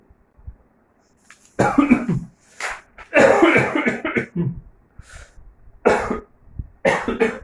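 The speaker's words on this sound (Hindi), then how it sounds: "सॉरी, इसलिए मुझे बीच में खांसी आ गई थी।" A man coughs repeatedly in short, sharp bursts during a lecture, fairly close and loud, separated by brief quiet gaps, with no speech in between.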